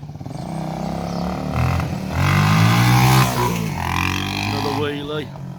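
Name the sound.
1978 Honda XL250 motorcycle revving during a wheelie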